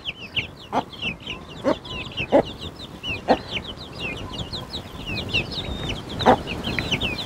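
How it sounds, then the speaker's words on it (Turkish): A mother hen gives sharp, separate clucks at intervals over a steady stream of shrill peeping from a brood of one-month-old Australorp and Sultan chicks, all at moderate volume. "Beş tane astrolorp civcivimiz, 4 tane de sultan civcivimiz var."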